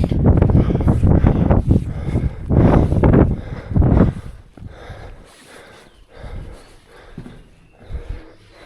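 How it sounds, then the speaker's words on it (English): Strong wind buffeting the microphone outdoors in misty weather near a church in Armenia, loud rumbling gusts early on that ease into softer, intermittent blasts. "So the wind is calming down a little bit"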